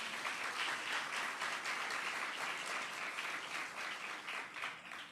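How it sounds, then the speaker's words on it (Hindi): Sustained applause from a church congregation in Lahore fills the space, steady and dense throughout, with a slight fade toward the end and no talking over it. "आइए इस हम्बल खादम के लिए जोरदार तालियां बजाएं।"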